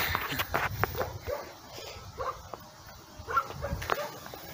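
Dog giving quick yips and small barks mixed with whimpers and footsteps, fairly faint and scattered across a few seconds with pauses between bursts.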